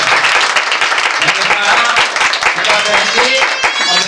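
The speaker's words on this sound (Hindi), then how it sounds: "ताली बजाओ जोर से।" A church congregation claps loudly and rapidly during a worship service, dense applause with crowd voices mixed in, close and continuous throughout.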